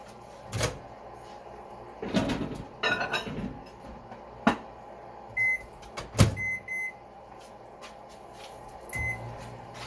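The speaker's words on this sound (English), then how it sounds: "Let me put my oatmeal in the microwave." A microwave oven heats a bowl of oatmeal in a kitchen, a low hum under a series of clicks, clunks and beeps from the door and keypad.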